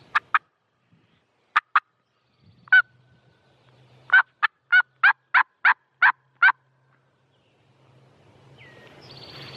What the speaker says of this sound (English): Had to be that same turkey.